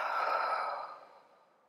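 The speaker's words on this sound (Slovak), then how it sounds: "a výdych" A single long, slow exhale during a prenatal yoga breathing exercise, a close airy breath that fades gradually, heard alone.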